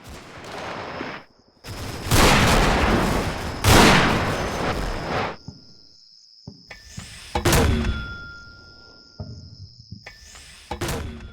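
Mortar fire in the World War II game Combat Mission: Fortress Italy lands as several loud, separate explosive bursts with rumbling tails, spaced by quieter gaps of high, steady insect-like ambience.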